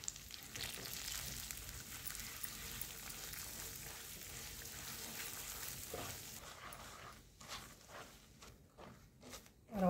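Semolina roasting in ghee in a pan for sheera gives a steady soft sizzle and hiss, with stirring scrapes and clatter toward the end.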